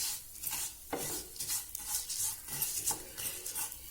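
Vermicelli roasting on a low-medium flame in a pan for semiya kheer, stirred with repeated scraping and rasping strokes against the metal over a faint sizzle, close and steady with no talk.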